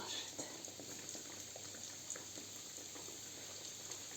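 Steady bubbling crackle of dough balls frying in hot oil, a continuous busy hiss with small pops throughout.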